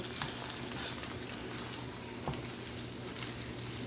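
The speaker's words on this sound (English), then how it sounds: "Then you need to push around and then just cut the eggs like I'm doing." Scrambled eggs sizzle steadily in a pan, with soft scraping taps as a spatula pushes the curds around and cuts through them, all fairly quiet and close with no talking.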